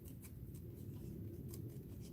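Scissors snip through paper cutouts for an art journal, a few soft crisp cuts at irregular intervals over a steady low background hum.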